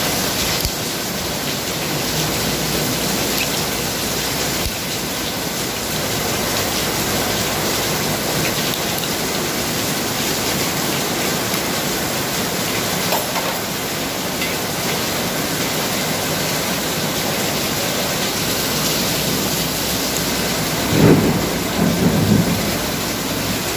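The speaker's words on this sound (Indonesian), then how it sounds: "mungkin agak berisik ya suara hujan nih" Heavy rain pours steadily and hisses throughout at close range, with a brief low rumble of thunder near the end.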